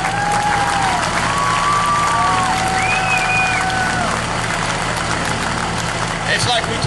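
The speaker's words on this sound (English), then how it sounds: "Let's give these guys a round of applause." An outdoor crowd applauding at a school bonfire rally, steady clapping with whistles and shouts rising over it and a low engine hum running beneath.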